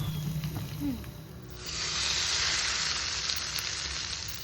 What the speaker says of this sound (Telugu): కడాయి గిన్నె పెట్టుకొని రెండు పావుల నూనె జీలకర్ర ఆవాలు రెండు మూడు ఎండిన మిరపకాయలు ఒక కరివేపాకు రెబ్బ కొంచెం పసుపు ఇవన్నీ వేసి తాలింపు పెట్టుకోవాలి